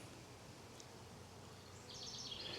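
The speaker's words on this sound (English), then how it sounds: "She's got bees all around her, tending to her" Honeybees crowd around an unmarked, mated queen in a hive, giving a soft, steady hum close by that thickens into a brighter, denser buzz toward the end, with no voices.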